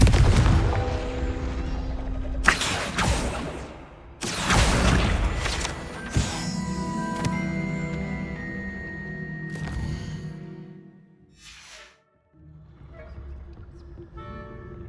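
Confringo blast spell in the video game Hogwarts Legacy, loud booming impacts and explosive bursts with crackling fire, several blasts over a rumbling background, fading near the end.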